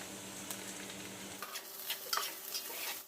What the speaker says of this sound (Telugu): ఉల్లిపాయ కొంచెం ఫ్రై అయ్యాక పచ్చిమిర్చి వేస్తున్నామమ్మా